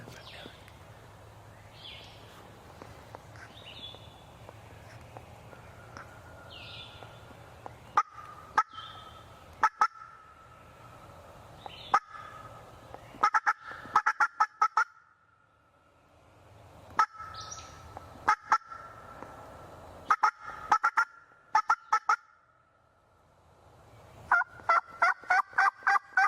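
Wild turkeys gobble in short, far-off bursts during a late-February turkey season hunt outdoors, the calls repeating amid sharp clicks and knocks over a quiet background.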